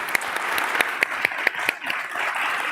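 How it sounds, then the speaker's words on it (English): An audience at an academic anniversary conference panel applauds, a dense patter of many hands clapping steadily for a few seconds at moderate loudness. "a round of applause, please"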